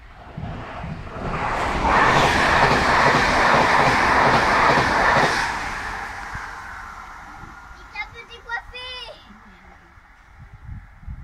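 A train runs straight through Maromme station without stopping on wet rails, a loud close rush that swells within two seconds, holds for about four, then fades into quieter rail clatter with brief high metallic squeals, with voices nearby.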